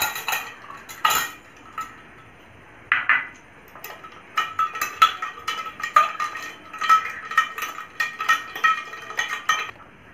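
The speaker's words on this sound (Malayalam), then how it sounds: "ഇനി നമുക്ക് ഇതിലേക്ക് ഐസ് ക്യൂബ് ഇട്ടിട്ട് സെറ്റ് ആക്കാം." Ice cubes drop into a glass of pale pink drink, producing a series of sharp clinks and rattles, sparse at first and then rapid and closely spaced, with no talking.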